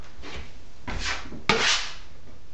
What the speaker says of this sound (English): wipe the excess off on your trowel, give it a wipe